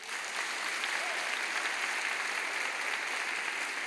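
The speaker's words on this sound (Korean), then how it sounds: "여러분 인사할 때 큰 박수로 두 사람의 결혼을 축하해 주십시오" Wedding guests give the bride and groom a big round of applause as the couple bow, a thick, continuous burst of many people clapping together that stays loud and even from start to finish.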